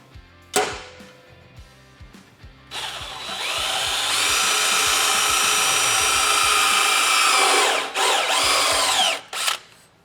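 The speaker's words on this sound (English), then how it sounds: "We're gonna get that drilled out." A power drill bores a roughly 9 mm hole in a steel ARB full skid plate on a Toyota Tacoma. A loud, steady whine runs for several seconds, cuts out briefly, then returns in a short burst, with a few clicks of the tool around it.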